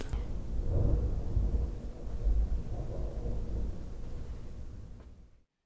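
A thunderstorm in Minecraft rolls out as deep, continuous rumbling thunder, swelling in loud waves over several seconds before cutting off abruptly near the end.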